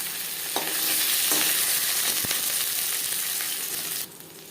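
Fish sizzling steadily in hot oil for a masala fish fry, a dense continuous crackle close by with a few sharper pops, ending with a sudden drop in level.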